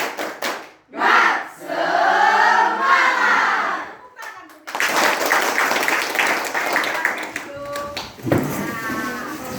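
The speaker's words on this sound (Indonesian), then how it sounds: "Tepuk semangat" Students in a training session perform a rhythmic spirit clap, tepuk semangat, with bursts of patterned group clapping and shouted chanting voices, separated by a brief pause, loud and close.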